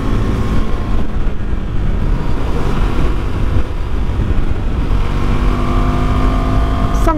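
A KTM RC390 motorcycle accelerates on the road, its engine drone rising steadily under heavy wind rush, recorded from the rider's position.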